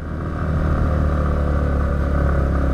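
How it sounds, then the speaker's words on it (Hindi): A Yamaha MT-15 motorcycle engine holds a steady drone in fourth gear while riding at high altitude on a Ladakh mountain road, with loud continuous low rumble and wind noise and no talking. "अब बाइक फोर्थ गियर में पावर थोड़ी कम ले रही है"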